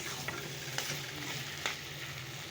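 Bottle gourd and dried fish cooking in a pan, a steady low sizzle with soft stirring scrapes and a few sharp clinks, continuous and close, no talking.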